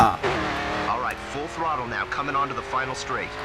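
Racing car engine from the Grid 2 video game revs up and down in repeated rising and falling sweeps, with tire noise and a voice talking over it throughout.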